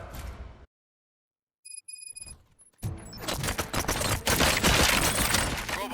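Gunfire in RoboCop: Rogue City erupts after a silent gap and some beeping tones, becoming a dense, loud stream of rapid shots and impacts that continues to the end.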